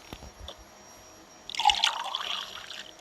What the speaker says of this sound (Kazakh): Сол үшін қыздарға осындай су қоямын.